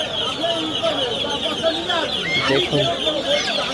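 Chickens clucking amid the steady bustle of a village livestock and bird market, dense crowd noise throughout with a voice speaking briefly over it.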